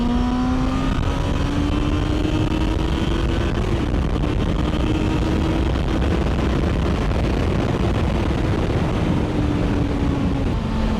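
A Yamaha FZ6 motorcycle engine runs steadily at speed, then downshifts and accelerates, with a rising engine note under heavy, continuous wind and road roar.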